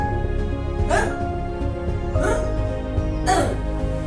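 A voice makes three short rolling growls, evenly spaced, imitating an R sound, close and moderately loud.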